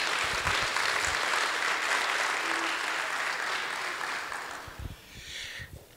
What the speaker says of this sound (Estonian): Palun teeme ühe suure aplausi meile kõigile.